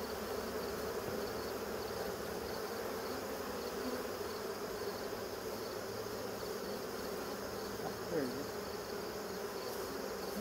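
A dense swarm of honeybees at an open beehive, producing a steady, continuous droning buzz that fills the whole stretch at an even level.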